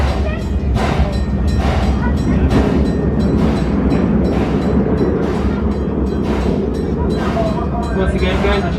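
Six Flags Over Texas park ride train getting underway, a steady loud rumble of wheels and carriages with faint rhythmic clacking as it starts rolling, under continuous people talking.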